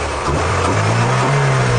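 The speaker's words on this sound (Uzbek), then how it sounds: "motorlari yaxshi ishlab turibdi" Daewoo Nexia 2 car engine running, a loud close steady hum with a slight rise in pitch partway through, alone without talk.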